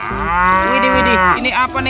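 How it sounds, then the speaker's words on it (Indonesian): A cow gives a single long, drawn-out moo, loud and close, with a person speaking briefly at the end. "Wah, ini ada sapi."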